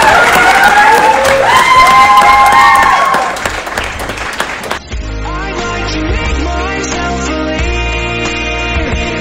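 Audience applause fills a pageant hall at the Queen Alberta pageant, loud and dense over a lingering musical tone, then drops after a few seconds as music carries on with only scattered claps.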